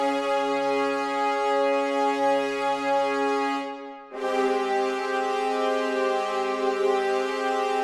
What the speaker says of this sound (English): I wanted to just test some pitch bend on like a brass instrument